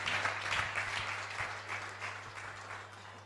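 A church congregation applauds after a Bible reading, dense, sustained clapping from many hands that fills the room and eases slightly toward the end, with a faint hum underneath.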